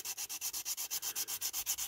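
A worn, cracked window screen from an old diecast model is sanded by hand in quick, even back-and-forth strokes, about a dozen rhythmic, hissing rubs close up.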